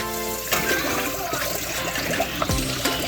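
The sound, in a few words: water rinsing fish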